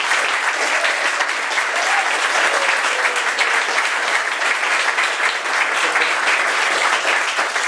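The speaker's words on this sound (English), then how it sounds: "Give Glenn a round of applause." Steady, loud applause from a crowd at a firehouse opening, dense clapping that holds evenly throughout without letting up.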